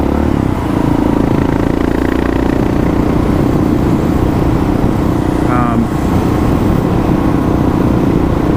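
A Kawasaki KLR650 motorcycle engine runs steadily up close, with a constant loud rumble and a brief rise in pitch, while a person talks over it.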